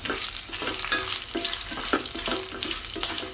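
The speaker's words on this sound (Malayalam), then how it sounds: "അടുത്തത് ഞാനിവിടെ എടുത്ത് വെച്ച് വറ്റൽമുളക് ഇതിൽ ചേർത്ത് കൊടുക്കുന്നുണ്ട് അതൊന്ന് വഴറ്റിയെടുക്കാം" Dried red chillies frying in hot oil for a chutney, a dense continuous sizzle with repeated stirring scrapes close by, no voices.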